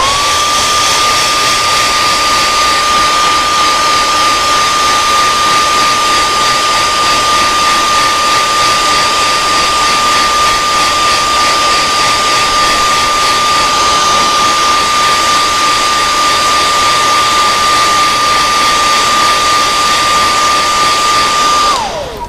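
A heat gun heat-sets paint on a fish lure, blowing with a steady, loud whirring hiss and a constant whine for over twenty seconds before cutting off at the end.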